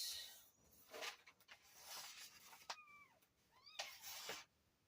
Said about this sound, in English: the little kittens are in the background